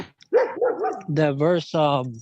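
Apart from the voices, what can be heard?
dog barking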